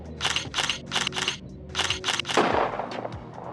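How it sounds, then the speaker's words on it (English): Rapid bursts of gunfire crack in quick succession, a tight volley of sharp shots, then a final louder blast that rings out and fades. "I had to give it a nice gunshot at the end to kind of sum up those rapid fire shots"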